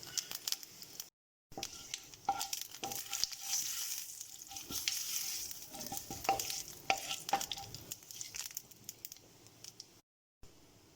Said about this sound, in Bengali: এবার এই তেলের মধ্যে আমি দিয়ে দিচ্ছি তেজপাতা, শুকনো লঙ্কা আর 1 চামচ পরিমাণে গোটা জিরে। এগুলোকে একটু 10 থেকে 15 সেকেন্ডের মতন ভেজে নিচ্ছি।